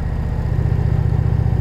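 A 2020 Indian Challenger motorcycle engine runs at a steady, low, pulsing rumble, close and continuous, with a soft whirring texture above the throb and no talk.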